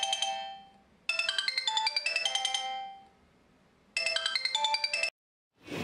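A phone ringtone plays in two bursts of bright electronic melody, separated by a pause, close and clear with no talking.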